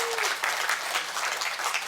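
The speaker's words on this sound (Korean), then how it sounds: "큰 박수로 강사님을 맞이해 주시기 바랍니다" Audience at a town information session clapping to welcome a lecturer onstage: dense, steady applause from a room full of people, filling the whole moment.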